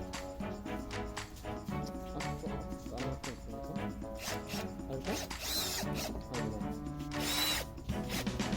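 A power drill drives screws to fix a leg mounting plate to the underside of a DIY two-way table for a kei van, with steady whirring bursts and ratcheting clicks close by over background music.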